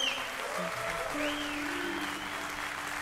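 Audience applause at a live Portuguese concert fills the space as a dense, steady wash of clapping, with faint sustained keyboard tones lingering underneath.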